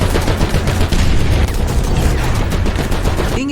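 Rapid gunfire and booming cannon shots from World War I Char 2C heavy tanks in the War Thunder video game, a dense continuous barrage of loud blasts fired on the move with no pauses.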